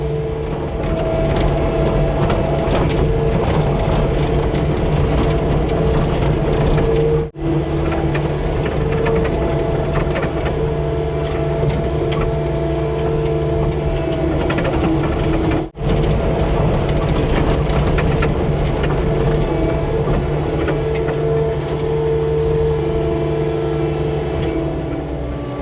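A tracked skid steer carrying a bucket of dirt rumbles steadily across a dry creek crossing, its engine drone and clanking tracks forming a loud, constant, close wash of noise with only two brief dropouts.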